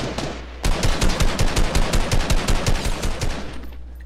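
A gray AK rifle fires a long, sustained, fully automatic burst in a video game, loud and close, with evenly spaced shots at a steady rhythm for about three seconds before stopping.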